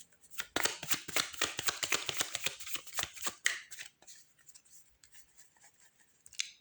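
Marseille tarot cards being shuffled by hand: a fast run of crisp, close riffling clicks for about three seconds, then scattered soft card taps and slides, with no talking.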